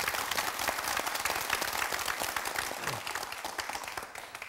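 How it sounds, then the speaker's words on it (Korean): Audience applause at a special talk event in Korea, dense sustained clapping from a sizeable crowd, loud and continuous, tapering slightly toward the end. "이 광주 시민들의 정신을 바로 우리 시대의 이론으로 정립해 주신 선생님에게 다시 한번 큰 박수를 부탁드리겠습니다"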